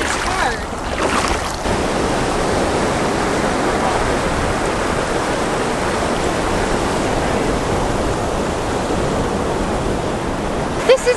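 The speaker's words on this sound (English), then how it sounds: "And the waves are crashing on the reef right there." Open-ocean surf crashes continuously against the edge of a narrow atoll reef, a loud, unbroken roar of breaking waves that holds steady for the whole stretch.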